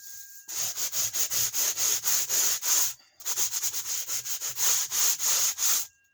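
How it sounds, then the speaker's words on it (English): A Dollar Tree sanding block scuffs the rough surface of a junk journal in quick, steady back-and-forth strokes, close and alone, with a brief pause midway before the rhythmic rasping resumes. "I use these sanding blocks that I get at the Dollar Tree, but you can make it and just scuff it up until it's smooth"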